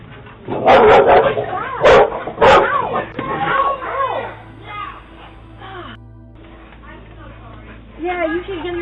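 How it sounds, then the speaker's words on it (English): A neighbor's aggressive dog barks in several loud, sharp bursts up close, then drops to quieter yips and whimpers, with people talking and shouting over and between the barks. "a family is repeatedly harassed by their neighbor's aggressive dogs"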